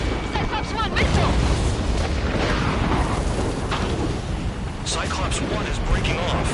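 A missile explosion in a PS4 video game rolls on as a dense, sustained roar and rumble that fills the whole stretch, with voices partly heard under it.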